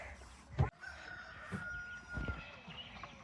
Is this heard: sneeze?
no